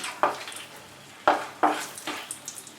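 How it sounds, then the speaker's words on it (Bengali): Whole cinnamon, cloves, peppercorns, bay leaf and dried red chili fry in hot oil, giving a soft sizzle broken by a few sharp stirring and pan clatters, close by with no talking. "ফোড়নটাকে 10 সেকেন্ড মতো আমি ফ্রাই করে নিলাম"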